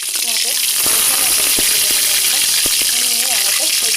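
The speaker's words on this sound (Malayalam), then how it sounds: "നമുക്കിതൊന്ന് വറുത്തെടുക്കാം" Spice-coated dried fish frying in hot oil gives a loud, continuous, close hiss and crackle, with a voice faintly audible beneath the sizzle.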